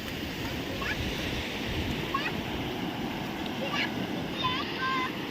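Sea waves washing onto a beach, a continuous close wash and roar of surf with wind noise, steady throughout, while children and adults play nearby and occasional light voices rise above.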